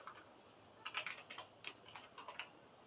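Keystrokes on a computer keyboard while entering Python commands, a quick run of light, close clicks in short bursts with small pauses, no voices.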